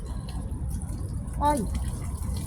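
Hot water gushes steadily from a tap in a continuous low rush, with a brief spoken exclamation over it.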